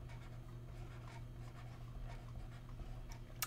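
Marker or chalk strokes scratching across a board during a polymer chemistry lecture, a run of soft, steady scribbles over a constant low room hum, with a sharper tap near the end.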